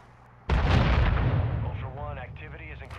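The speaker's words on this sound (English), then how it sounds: "My bomb went off!" A bomb goes off in a video game with a sudden loud blast that rolls into a long rumbling decay, with voices faintly heard under the tail.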